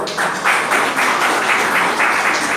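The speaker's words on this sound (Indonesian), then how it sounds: "Tepuk tangan lagi untuk Bapak Ibu." An audience claps at a business training seminar in Indonesia. The clapping is loud, close and dense, with a steady rhythmic pulse running through it.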